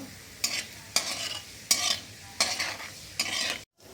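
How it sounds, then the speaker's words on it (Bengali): Cumin seeds fry in a hot pan with a low sizzle, while a spatula stirs them in five or six regular scraping strokes, close and alone without talk. "জিরাটা আমি একটু ভেজে নেব"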